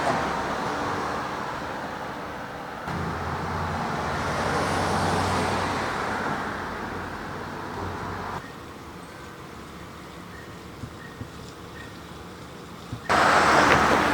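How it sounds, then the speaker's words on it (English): Road traffic rolls past on a bridge, a steady broadband rush of cars passing close by that swells and fades over fourteen seconds, with a louder surge of passing vehicles at the end. "as you can hear the cars go by"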